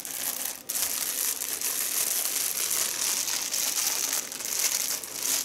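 Plastic packaging bag crinkling and rustling as an anime figure of Madoka from Japan is unboxed, continuous close crackling for several seconds, loud and alone without speech.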